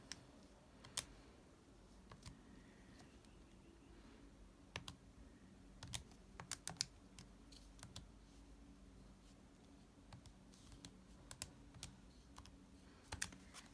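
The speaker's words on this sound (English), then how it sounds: "So popping that into my calculator" Keys pressed on a graphing calculator while an equation is entered, a quiet series of irregular clicks and taps, close and isolated with no talk.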